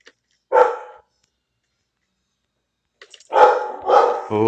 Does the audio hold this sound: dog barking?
yes